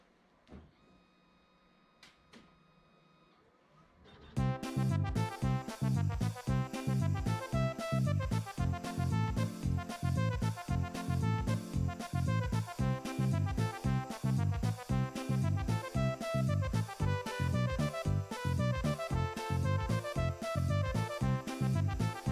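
A Universal Laser System desktop laser engraver runs a rotary job with fume extraction on, a quiet hum giving way to a loud, busy stream of rapid rhythmic clicking and whirring mechanical motion that continues steadily throughout.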